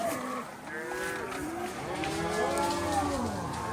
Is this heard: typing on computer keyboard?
no